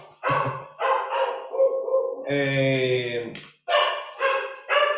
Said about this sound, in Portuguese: tá o cachorro latendo pra caramba aqui